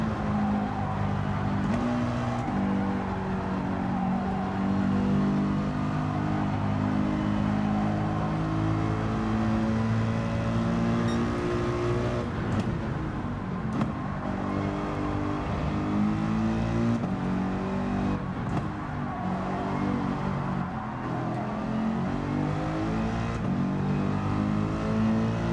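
Mercedes race car in Gran Turismo 7, a big, heavy car whose engine drones loud and steady, pitch rising and falling through gear changes as it accelerates, close and continuous with no talk.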